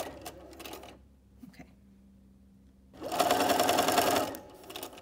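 A sewing machine stitches around the edge of a double gauze fabric skirt, with short bursts of motor whir and needle clatter, then a louder sustained run of about a second near the end.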